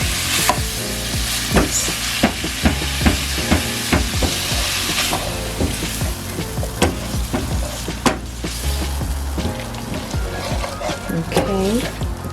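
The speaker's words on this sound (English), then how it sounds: "So give it a quick stir." Seafood curry bubbles and sizzles in a hot pan while a spoon stirs it, with scraping clicks and taps against the pan, steady frying hiss underneath, and a voice briefly speaking.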